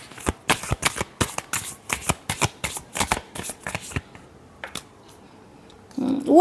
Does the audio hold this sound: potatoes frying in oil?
no